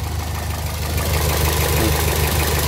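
A second-generation Toyota Vios engine idling at close range, a steady low rumbling hum with an even pulse throughout and no talking.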